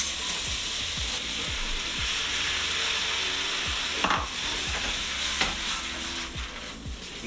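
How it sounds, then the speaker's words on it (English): Shrimp sizzle loudly in a hot stir-fry pan with vegetables, a steady broadband frying hiss broken by repeated clanks and scrapes as the pan is tossed and stirred. "We're going to throw in the shrimp."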